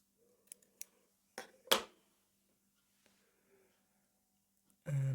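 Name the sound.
scissors cutting yarn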